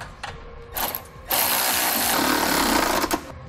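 A ratchet tightens the bolts of a Blue Ox base plate kit on a 2017 Ford Edge. A few short mechanical clicks give way to a steady, loud, close whirring buzz that runs for about two seconds.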